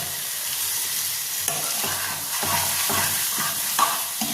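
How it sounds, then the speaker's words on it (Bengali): Chicken liver curry fries in a pan with a constant sizzle, broken by roughly one-second scraping stirs of a spatula along the bottom. The sound is close and continuous, with no talking. "মাঝে মধ্যে কিন্তু ভালো মতন করে নিচের দিকটা নাড়িয়ে দিতে হবে।"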